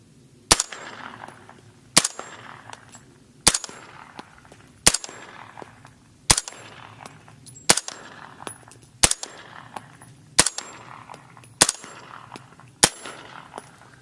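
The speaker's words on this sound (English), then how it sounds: "I believe that 30 round mag that I just shot was those Magtech rounds" Suppressed 300 Blackout rifle firing subsonic Magtech rounds from a 30-round Magpul magazine outdoors: ten sharp, loud cracks at a steady pace about 1.5 seconds apart, each trailing into a short echo with no talking.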